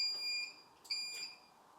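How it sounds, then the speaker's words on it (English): Electronic timer on a sublimation heat press beeping as a countdown ends while pressing a glass chopping board, two or three faint, high, steady tones in a quiet room. "Once your timer hits 0 and you hear it start to beep"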